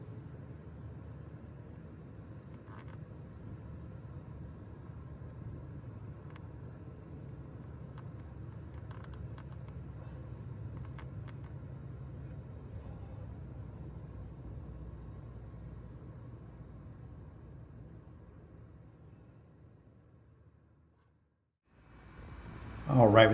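A Trane rooftop HVAC unit's condenser fan motor runs with a steady low rumbling hum that slowly fades as it winds down near the end, followed by a sudden loud clatter.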